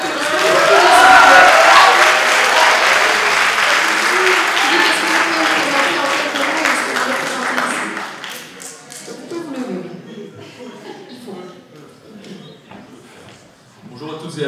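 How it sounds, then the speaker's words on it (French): Loud audience applause at an Exp'OSE 2025 finale event, strong for several seconds and then thinning into scattered claps and taps as it dies down. "Nous avons Philippe, avec un tonnerre d'applaudissements."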